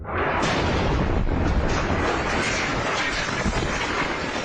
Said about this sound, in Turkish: Roketin binaya isabet anı kameralara yansıdı